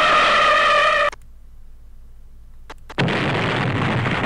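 After a held electronic tone cuts to near silence, a cartoonish explosion effect from 3D Movie Maker bursts in abruptly and loudly, leaving a sustained broad rumbling roar to the end.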